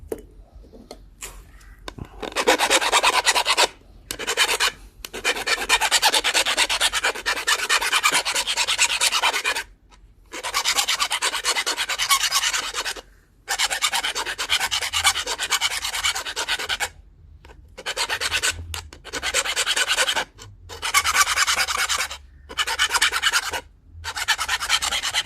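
A dull tool used for shaping an opalized glass knife blade is filed in repeated rasping strokes, bursts of scraping separated by short silent gaps over a long stretch.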